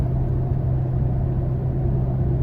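A Ford 3.5 EcoBoost V6 in a full-size truck idles with a steady, low, close rumble that holds constant and has no talk over it.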